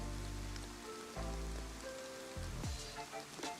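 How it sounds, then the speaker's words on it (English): Rain falling in the DayZ editor, a video game, with a steady hiss of drops on surfaces beneath a low, sustained tonal drone that shifts partway through. "you make it like rain"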